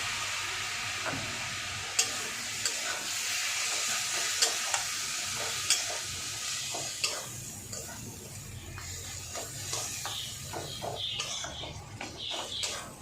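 A jackfruit seed curry sautés in a pan with a little water, giving a continuous close sizzle that eases toward the end while a utensil stirs and taps against the pan at intervals.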